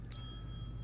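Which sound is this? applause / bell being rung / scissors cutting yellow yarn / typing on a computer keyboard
bell being rung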